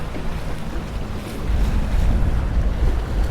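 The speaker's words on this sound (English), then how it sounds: "the wind's picking up" Wind gusting over open water from a small fishing boat, a steady close rush of wind noise against the microphone with low rumbling waves that swells stronger partway through, no talking.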